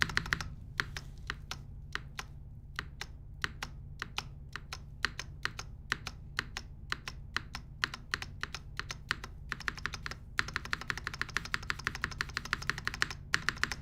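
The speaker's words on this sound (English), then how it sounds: "That's just the sound of the spacebar coming back up." Spacebar on a custom Flybeck Zoku mechanical keyboard clacking back up, a steady series of sharp, close clicks in an irregular typing rhythm that grows denser and faster near the end, with no voices.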